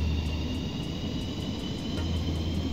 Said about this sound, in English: The engine's powering up really fast.